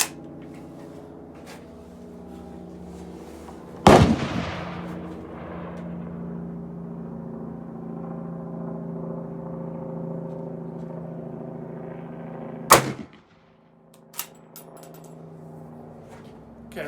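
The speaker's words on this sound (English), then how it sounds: "let's try one more shot" Mannlicher M1895 long rifle fired at a range, two sharp, loud gunshot reports several seconds apart, each with a short decaying echo over a low background hum.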